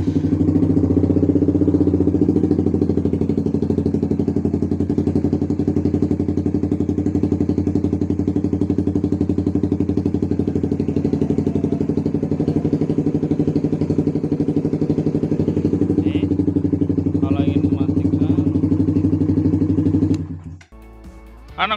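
A Suzuki GSX 150R motorcycle engine runs at a steady, loud idle close by for about twenty seconds, then cuts out abruptly with a brief clatter at the end.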